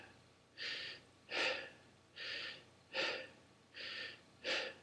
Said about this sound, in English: compared to normally breathing out of your chest